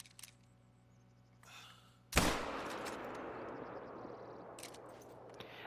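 A single loud rifle shot in theHunter: Call of the Wild, sharp and close, followed by a long echoing decay across open terrain after a few faint clicks and rustles.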